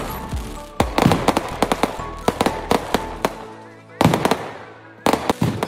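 Easter fireworks and firecrackers bursting outdoors in a rapid, irregular string of loud sharp bangs and crackles, with brief pauses and a couple of renewed volleys near the end.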